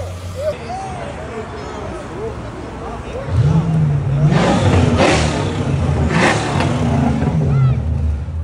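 A car engine revving hard at a Brazilian car meet, a loud rising roar with deep rumbling pitch swings, over a background crowd murmur and voices.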